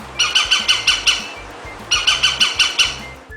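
Woodpecker call for a children's wild animal sounds lesson: two bursts of rapid, evenly spaced sharp squawking notes, about six calls each, loud and close with a short pause between bursts.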